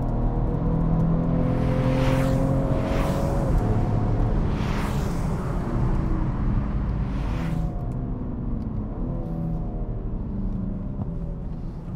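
A 2025 Alpina B3 GT engine pulls hard through the gears while driving, rising revs broken by quick shift breaks, then a steady loud drone with road noise under it.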